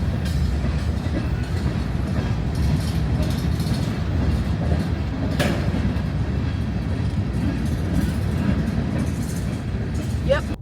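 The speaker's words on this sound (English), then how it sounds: "you see a train go another way" Train rolling past on the scenic route from Atlanta to Columbus in Georgia, heard as a steady, loud rumble and clatter lasting throughout, with a brief higher squeal near the end.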